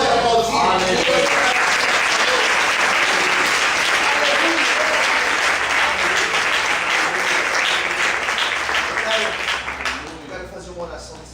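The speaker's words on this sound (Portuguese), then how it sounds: "Você pode aplaudir." A church congregation applauds at the close of a sermon and prayer, a dense, loud wash of clapping that holds steady before fading out near the end.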